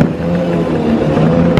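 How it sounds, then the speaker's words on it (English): Several motorcycles revving their engines in a street during New Year celebrations in the Philippines, a continuous loud rumble of overlapping engines with some rising revs. "A bunch of guys on a bike just going in the engine."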